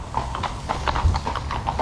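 Horse hooves clip-clop in a steady, fairly close rhythm as a horse-drawn carriage rolls through Vienna, with low rumbling wheel and street noise beneath.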